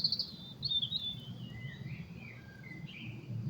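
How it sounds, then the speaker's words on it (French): Birds sing outdoors in repeated high chirps and warbling phrases, moderately close, over a steady low background hum with no talking. "Écoutez ces chants des oiseaux"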